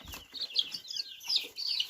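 Meat birds and hens cluck and chirp faintly in short, overlapping bursts, with a few scattered low thumps underneath.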